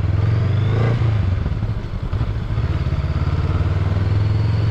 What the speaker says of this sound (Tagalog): Maganda na tingin yan, buong buo yung tunog ng makina mo.